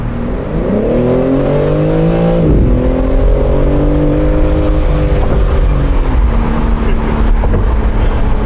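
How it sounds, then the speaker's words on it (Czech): A BMW car engine revs hard and loud at a BMW enthusiast event in Most, its pitch climbing, dipping, then rising again as it accelerates nearby. "poslouchejte ten zvuk toho motoru, který je insane."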